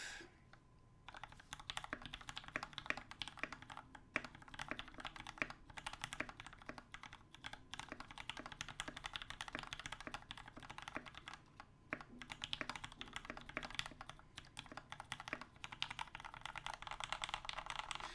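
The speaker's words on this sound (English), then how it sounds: "I want you to hear me typing on it." Typing on a CA66 Bluetooth mechanical keyboard fitted with Gateron Pink switches and an unfilled case, a dense run of crisp, even keystrokes clacking close up for a long stretch, with brief pauses and no talk.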